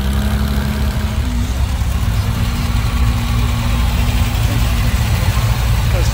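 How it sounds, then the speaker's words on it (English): A GT3 RS sports car at the Amelia Island 2022 car show runs with a loud, close, throaty engine rumble that holds steady, with a slight rise in pitch. "Nice little rev for you right there."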